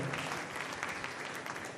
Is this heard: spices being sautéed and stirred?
no